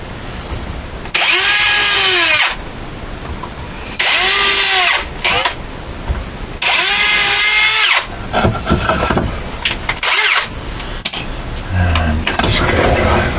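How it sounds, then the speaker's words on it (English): A power drill drives screws into wood while a mitre box is being made in a small shed, with three loud whining bursts of a couple of seconds each, followed by shorter clattering handling noises and a voice. "all I need to do on that is just screw those in either side."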